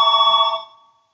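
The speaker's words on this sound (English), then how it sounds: "The phone rings." A telephone rings once, a bright electronic bell tone lasting about half a second and then decaying into silence.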